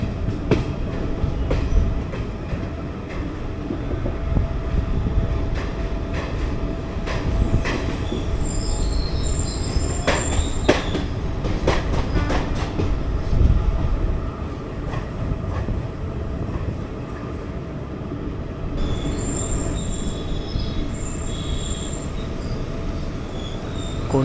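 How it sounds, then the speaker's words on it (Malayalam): A train rolls past on a railway track near Banaswadi, with loud continuous rumble, rhythmic wheel clatter and occasional high metallic squeals running throughout. "ഇപ്പോൾ റൈറ്റ് സൈഡിൽ വേറൊരു ട്രെയിൻ നിങ്ങൾക്ക് കാണാം."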